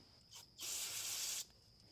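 Brake cleaner sprays onto the inside edge of a valve cover on a Jeep YJ 4.0L engine: a short puff, then one steady, close hiss lasting under a second before it cuts off.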